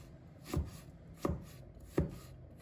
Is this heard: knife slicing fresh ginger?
yes